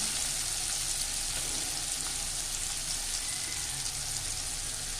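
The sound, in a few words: onions frying in oil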